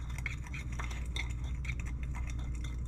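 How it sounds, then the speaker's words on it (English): Seasoning with lemon pepper and black pepper being whisked in a bowl, a quick run of light metallic tapping and clinking strokes, close and steady, with no voices. "Gonna give that a whisk."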